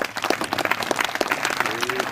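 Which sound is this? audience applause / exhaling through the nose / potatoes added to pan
audience applause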